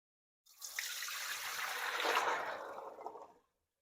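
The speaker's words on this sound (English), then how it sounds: "I'm going to drain them in a colander." Soaked dry pinto beans are drained into a colander, a steady close splashing pour of water running for about three seconds before stopping, with no talking.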